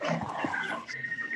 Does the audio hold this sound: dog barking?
yes